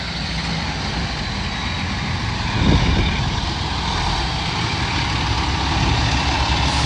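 A truck idles at a school demolition site with a steady low engine rumble that swells briefly midway and then carries on, heard alone from moderately close.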